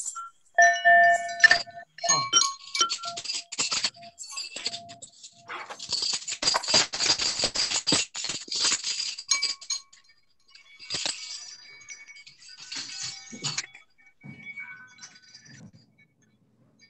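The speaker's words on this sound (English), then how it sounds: "So if you have a bell, please unmute yourselves and let those bells ring." Many small handbells ring over a video call, producing scattered bright jingles and clinks in irregular bursts that swell into a dense cluster and then thin out to sporadic tings.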